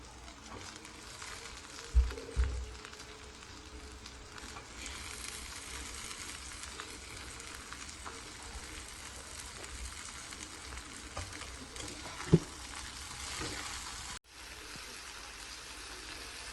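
Raw cashews frying in a pan for a prawn curry, a steady soft sizzle running throughout with a couple of brief louder clinks and stirring bumps, then cutting off abruptly near the end.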